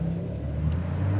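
Porsche sports car accelerating hard in Sport Plus mode on a track beside airplanes, a steady low engine drone rising slightly in pitch, continuous and close without any voices.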